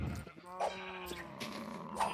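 Sheep in the Minecraft video game bleat twice in short, nasal calls over a faint background, with no talking.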